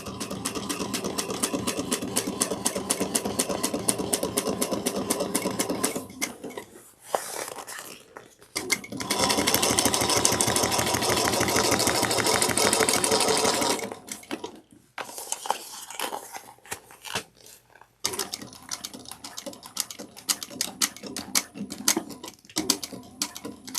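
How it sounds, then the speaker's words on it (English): A sewing machine stitching across a tablet clutch bag, fast rhythmic mechanical clatter in several bursts separated by brief pauses, close and loud with no talking. "I'm going to back stitch 2 stitches and I'm going to sew across"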